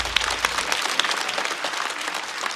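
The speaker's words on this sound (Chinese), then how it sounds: "来，再次把掌声送给王大刀。" Audience applause for a stand-up comedian at a Chinese comedy show, a dense steady burst of many hands clapping that fills the whole stretch, with a few sharper claps poking through.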